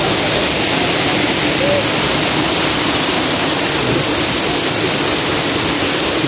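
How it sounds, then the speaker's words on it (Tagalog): A powerful waterfall crashes down in a loud, continuous broadband roar, close and unbroken, with strong wind mixed in. "Impact ng tubig."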